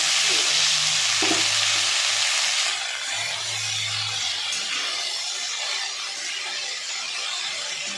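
Red amaranth greens hit hot oil in a pan where nuts and dried chillies were just fried, giving a loud steady sizzle that softens slightly after a few seconds, with a brief clatter near the start and no talking.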